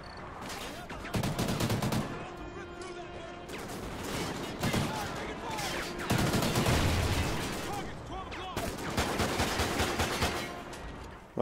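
Rapid automatic gunfire rattles in repeated bursts during a Call of Duty Ghosts campaign mission, Atlas Falls, with dense volleys separated by brief lulls, fairly loud and near.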